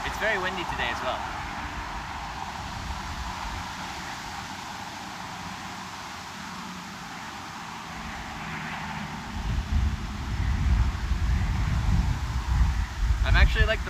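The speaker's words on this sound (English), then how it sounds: "It's very windy today as well." Strong wind blowing outdoors, buffeting the microphone with a steady rushing roar that grows louder and rougher toward the end, with a voice speaking briefly at the start.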